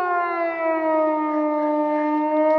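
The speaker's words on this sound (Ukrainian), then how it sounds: "лунали звуки повітряної тривоги" A steady air raid siren wails continuously over Belgorod, its pitch sinking slightly as it drones on alone.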